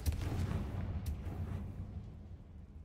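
Confringo blasting spell in the Hogwarts Legacy video game, a deep booming blast that hits at once and rumbles away over about three seconds, with a brief crackle partway through.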